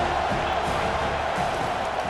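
Constant stadium crowd noise swells behind the defense on a third down in EA Sports College Football 25, an even wash of cheering with no distinct peaks.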